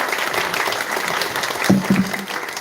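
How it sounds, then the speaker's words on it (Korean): An audience at a live creative event in Seongsu applauds, a dense, steady wash of clapping, with a brief voice surfacing partway through. "한번 큰 박수 부탁드리겠습니다"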